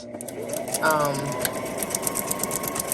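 A sewing machine stitches around a paper corset, rapid fast mechanical chatter in short bursts, close and moderately loud, with a person talking throughout.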